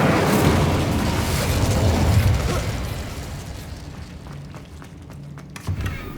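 Incendio fire spell cast in Hogwarts Legacy: a dense, loud roaring whoosh of flame that starts at full strength and slowly thins, with faint crackles and a small pop near the end.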